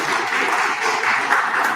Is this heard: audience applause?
yes